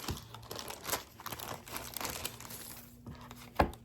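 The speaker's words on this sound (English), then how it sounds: "I'm going to unwrap these packages" Crinkly packages being unwrapped up close, an irregular run of crackling plastic and tearing bursts with one sharper rip near the end, no speech.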